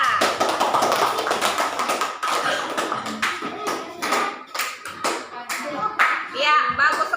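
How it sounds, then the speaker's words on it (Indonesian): A classroom of children claps for a student group in a lively burst of hand claps, uneven and close, with young voices calling out among the clapping before it thins toward the end. "tepuk tangan buat kelompok 3"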